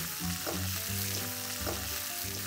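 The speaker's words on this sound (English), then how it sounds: "We stir this well." Onions fry with a steady sizzle in a pan while a spoon stirs them, scraping in several soft strokes. The sizzle stays close and continuous, and no one speaks.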